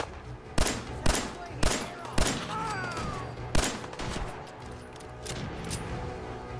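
Rapid gunfire from the video game Fallout 4, with several loud, sharp shots spaced irregularly over a continuous din of in-game noise and a distant buzzing whine.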